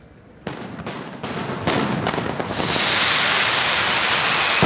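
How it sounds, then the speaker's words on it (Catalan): A mascletà by Pirotècnia Cavaller in the Albereda on New Year's Day, with hundreds of kilos of gunpowder: sharp firecracker bangs a few beats apart, quickly running together into a loud, continuous roar of explosions. "Res millor que una mascletà de focs d'artifici de la mà de la pirotècnia Cavaller per a inaugurar el 2006"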